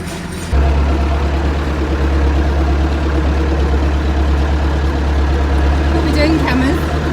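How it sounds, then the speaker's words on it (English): A tractor engine runs steadily for harrowing fields, a loud, continuous low rumble that starts abruptly after a brief quiet moment and holds constant, close by, with faint higher sounds near the end. "We are driving the tractor."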